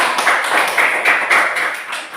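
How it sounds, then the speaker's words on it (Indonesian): A classroom of students claps briefly for a classmate, a short burst of scattered hand claps close by. "Coba tepuk tangan buat Abda."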